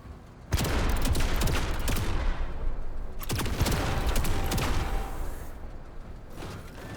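Sustained bursts of rapid gunfire from a marine in the video game Menace, loud and dense. A short break comes around the middle before the firing resumes, and it thins out toward the end.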